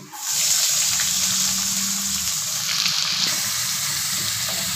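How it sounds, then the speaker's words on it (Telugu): Thinly sliced onion frying in hot oil after garlic, a steady close sizzle of spitting oil that holds evenly throughout with no talking. "ఉల్లిపాయ ఎర్రగా వేగాలి."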